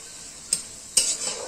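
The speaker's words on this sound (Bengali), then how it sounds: "এবার পেঁয়াজটা একটু ভেজে নেব" Onion frying in a kadai with a soft, steady sizzle under two sharp stirring scrapes or clinks of a spoon against the pan, close up.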